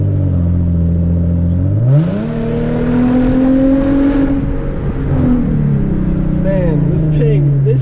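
A Hyundai Genesis Coupe's automatic transmission kicks down a gear and the engine's pitch climbs as it revs up, then settles and slowly winds down, loud and close throughout.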